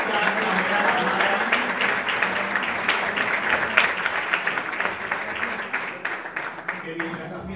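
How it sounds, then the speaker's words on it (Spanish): An audience gives a chamber quartet of the Orquesta Nacional de Málaga a long round of applause, dense at first and then thinning into scattered claps as it fades toward the end. "Un fuerte aplauso para el cuarteto de la Orquesta Nacional de Málaga."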